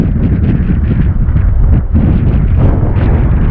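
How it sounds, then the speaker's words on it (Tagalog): Strong typhoon wind buffets the microphone out on the water where a fishing net is being cast, a loud, continuous roaring rumble with gusty surges and no voices. "sobrang lakas ng hangin guys"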